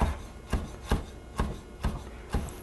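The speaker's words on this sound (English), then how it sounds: "sun-dried tomatoes that I want to chop up pretty well" Knife chopping about 2 ounces of sun-dried tomatoes on a board: six evenly spaced, close, crisp thuds, each followed by a short scraping rustle, with no voices.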